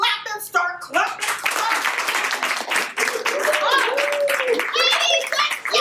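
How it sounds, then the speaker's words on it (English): An audience at a veterans' theatre comedy night claps and cheers in a busy, close burst, with hand claps mixed into excited voices. "Start clapping, start clapping"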